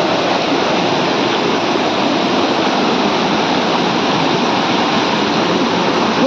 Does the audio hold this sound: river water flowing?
yes